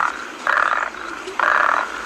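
A frog or toad croaks outdoors at night, giving two loud, buzzing trills about a second apart, each lasting roughly half a second, with no talking.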